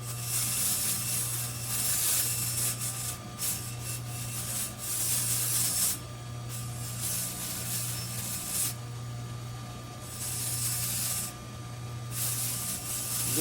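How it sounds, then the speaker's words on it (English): A 3M radial bristle brush spinning on a rotary tool cleans up a freshly soldered pendant bail: a steady motor whine under hissy, scratchy abrasion that swells and eases in bursts as the brush touches the metal, close up. "Now that the bail is soldered on, I'm going to clean it up a little using one of these 3M brushes."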